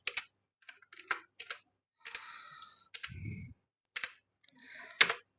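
Sparse clicks of a computer keyboard as keys are pressed on a system being configured, short isolated taps and small bursts separated by silence, close and fairly quiet, with a faint low thump in the middle.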